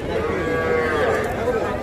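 Cattle, bulls and heifers, low at a busy cattle market, a drawn-out moo rising over the steady crowd murmur and livestock bustle close by.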